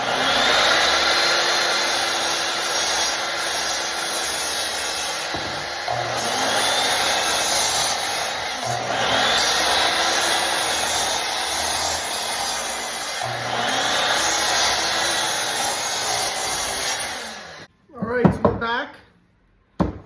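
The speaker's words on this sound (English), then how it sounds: "we're gonna head over to the miter saw, get these cut" A miter saw crosscuts 2x4 and 1x6 boards for a simple shelf build, a loud continuous whine running steadily for most of the stretch, then cutting out into a few brief knocks near the end.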